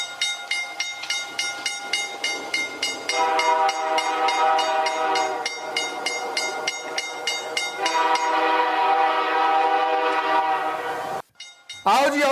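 A train stands at a Pakistan railway station platform, with steady whistle or horn tones and rhythmic clanking over a constant rumble, while a voice speaks briefly underneath before a sharp cut near the end.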